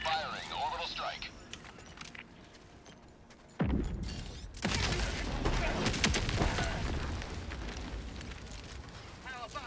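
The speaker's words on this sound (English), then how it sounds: "Firing orbital strike." Orbital strike explosions in Helldivers 2 land with a sudden loud blast about midway, followed by sustained rumbling roar and crackling debris, all over continuous game ambience.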